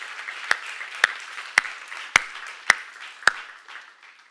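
A church congregation claps together in unison: six crisp, evenly spaced claps about half a second apart, with a faint room echo and no talking.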